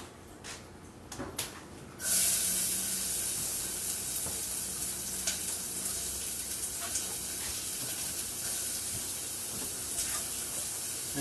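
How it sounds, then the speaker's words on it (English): Onions dropped into about two tablespoons of hot olive oil in a pot over medium heat, a few small clicks first, then a sudden loud steady hiss of sizzling that holds on evenly, close up, with no talk. "I'm going to add about 2 tablespoons of olive oil in there. I'm going to throw my onions in."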